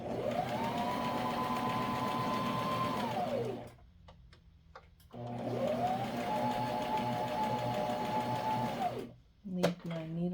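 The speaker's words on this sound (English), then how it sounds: "Sew to the straight edge, backstitch a little bit" A sewing machine stitches diaper cover fabric in two long, steady runs, humming and whirring close by. Brief pauses come between the runs, with a short rise and fall at the end.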